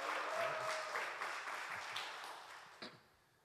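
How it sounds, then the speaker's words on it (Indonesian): Applause from a church congregation at a Sunday worship service, a broad wash of clapping that fades out over the last second, with one sharp clap or knock standing out near the end. "Beri tepuk tangan yang luar biasa"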